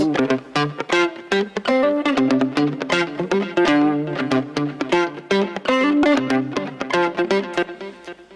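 Electric guitar plays a rhythmic space disco riff of repeated picked notes and chords, with a low delay effect on the returns, cut at 4 kHz, adding echoing repeats, loud and upfront.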